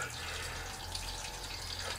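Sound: garden hose splashing water onto soil

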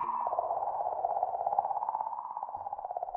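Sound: comet sound recorded by the Rosetta spacecraft

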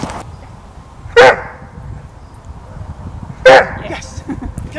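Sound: Doberman dog barking during protection training

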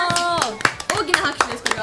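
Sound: audience clapping at an announced album release event

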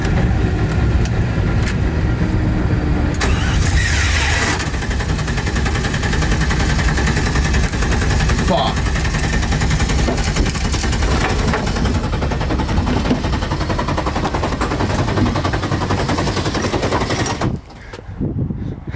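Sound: starter motor stuck running on an LS1-swapped BMW E36

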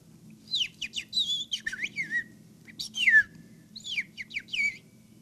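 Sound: person whistling imitating a bird call

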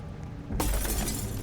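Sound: lamp falling and shattering in a Roblox video game

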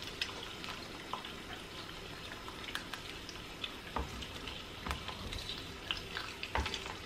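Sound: eggs frying in a pan

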